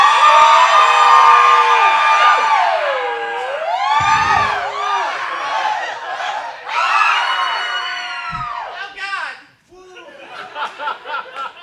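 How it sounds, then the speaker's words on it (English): An open-stage audience screams and cheers loudly on cue, a dense wash of crowd voices with whoops and laughter that dips and swells for several seconds before breaking into scattered bursts. "everybody just scream, get it done."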